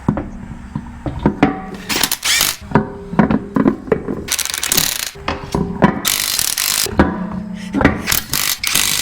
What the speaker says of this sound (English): we are also going to recheck the torque on the spacers